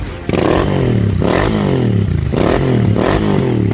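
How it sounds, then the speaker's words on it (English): A loud, close Royal Enfield Bullet motorcycle with a pair of exhausts revs repeatedly, pitch rising and falling in several throttle blips over a rough, rumbling idle. "I'll just let you a glance of the exhaust note."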